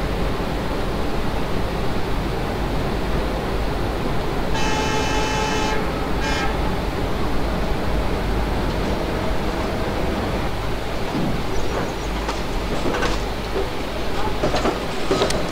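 A simulated Indian Railways Bhusaval–Katni passenger train stands ready to depart Nimbora station in Open Rails, with a steady rumbling background, a loud sustained horn blast followed by a brief second toot, then some clanking.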